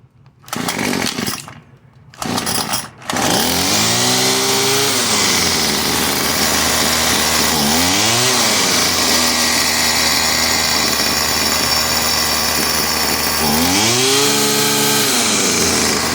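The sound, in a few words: string trimmer engine revving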